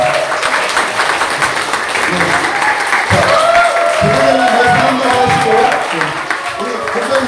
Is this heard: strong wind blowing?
no